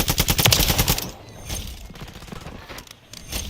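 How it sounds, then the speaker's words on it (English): Rapid automatic gunfire in a Call of Duty Modern Warfare III gunfight, a loud burst of evenly spaced shots for about a second, then scattered quieter shots and a final burst. "Finally, a gunfight going on."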